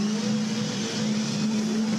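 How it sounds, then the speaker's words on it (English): A V8 Supercar at the 2015 Gold Coast 600 race holds a loud, steady high-rev engine roar through a post-race burnout, droning continuously at close range with no talk over it. "Burnout time."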